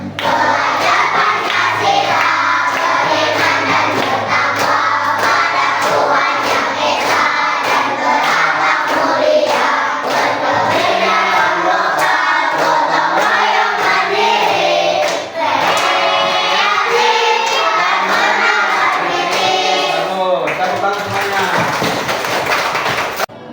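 A class of pupils claps and chants together in a steady rhythmic pattern, loud and close throughout, with many young voices calling out over the hand claps in an Indonesian school classroom.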